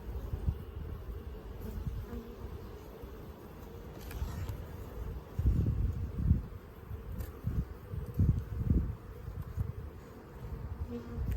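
Honey bees buzzing around an open hive during an inspection, a close, continuous low drone that swells in louder bursts as bees fly near, with faint rustling and no speech.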